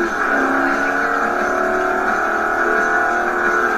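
A car engine in a racing video game holds a steady high drone with layered harmonic whine, loud and continuous, with no talk over it.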